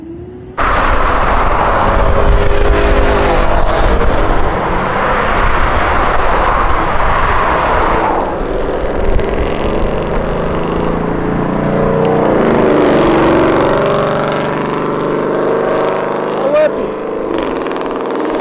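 A car engine is held at high revs and bangs against the rev limiter during a street race in São Paulo. The drone is loud, sustained and slightly wavering, with voices talking over it.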